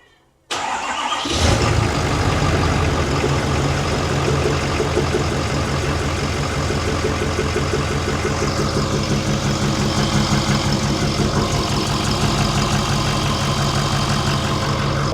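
A Ford Powerstroke diesel truck engine cranks and catches, then settles into a loud, steady idle that rumbles on close by, with no talking over it.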